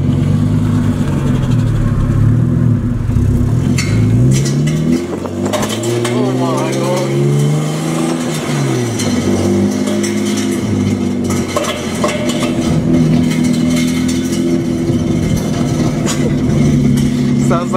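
A Nissan R32 Skyline with a manual gearbox swap and a redone exhaust revs loud and close from inside the cabin. Engine pitch climbs through first, second and third, then jumps on a downshift, with people talking over the steady drone.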